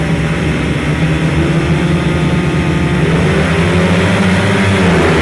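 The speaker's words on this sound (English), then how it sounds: "Revving up for the start then." Grasstrack solo motorcycles at a European final meeting rev their engines together at the start line, a loud, steady, dense engine roar with rising and falling pitch that holds for the whole stretch.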